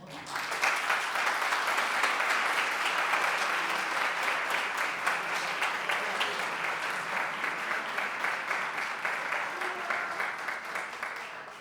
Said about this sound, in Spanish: por favor demos un gran aplauso a la editora de Minotauro